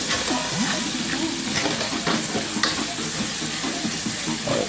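Scallion, sweet pepper and carrots sauté in a pan with a steady, close sizzle and occasional stirring scrapes, with no talking throughout.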